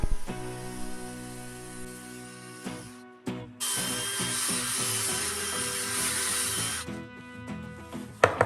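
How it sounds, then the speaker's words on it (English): A power drill spins a wooden nightstand leg wrapped in sandpaper, whirring steadily with a harsh continuous rubbing that stops briefly and then resumes, loud and close. "wrap the leg with some sandpaper, turn on the drill"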